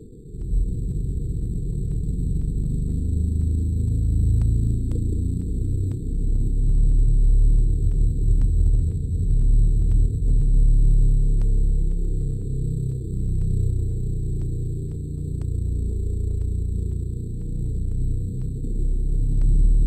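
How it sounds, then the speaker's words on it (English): Underwater recording of an iceberg running aground, a continuous heavy low rumble and grinding with scattered faint ticks and a thin steady high whine throughout. "Now, this is the sound of an iceberg running aground."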